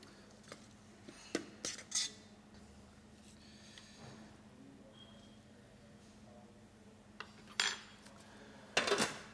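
Plate and cutlery handled while plating spinach: a few sharp clinks and scrapes of utensils against china, scattered over a quiet kitchen hum, the loudest clatter coming near the end.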